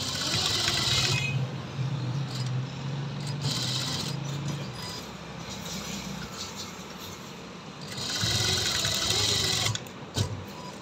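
Domestic sewing machine stitching a side pocket on a men's kameez, its steady mechanical whir running in bursts that stop and restart, fairly close and unaccompanied by talk.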